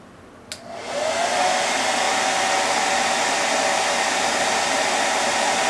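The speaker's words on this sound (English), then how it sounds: "You can turn the hair dryer on and just" A hair dryer is switched on after a brief click and runs as a steady, loud blowing whir, used to dry a finger splint for a mallet finger; no one talks over it.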